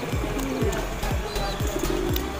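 Soft repeated cooing of pigeons against steady outdoor background noise, several low calls in a row, with brief chirps mixed in.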